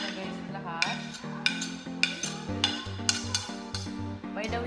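Garlic and ginger being mixed in a kitchen, with a series of clinking utensil scrapes and taps against a bowl at an irregular rhythm, close and fairly soft over a background of music.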